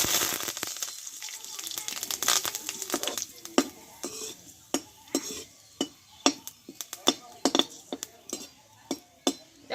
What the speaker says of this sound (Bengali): এই তেলে কয়েকটা কারি পাতা নিয়েছি কারি পাতাটা আমি একটু ভেজে নেব